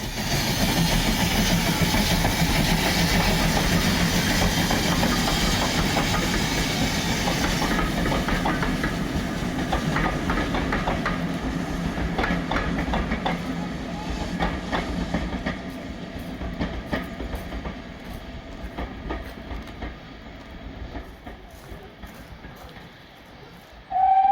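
Great Western pannier tank steam locomotive 7714 rolls past hauling a rake of Great Western coaches, a loud rumbling hiss with rhythmic clickety-clack of wheels over rail joints that gradually recedes into the distance.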